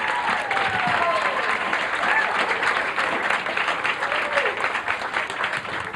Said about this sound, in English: let's have a nice big round of applause.